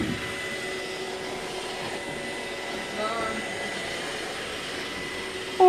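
A Roomba robot vacuum cleaner runs nearby with a steady whirring motor drone, and a brief voice cuts in at the very end.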